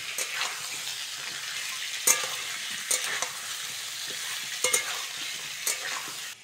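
Potato and eggplant fry in hot oil in a pan with a steady soft sizzle, while a spoon stirs and scrapes with periodic clinks as soaked chickpeas and peas are added.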